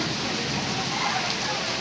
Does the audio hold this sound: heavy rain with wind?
yes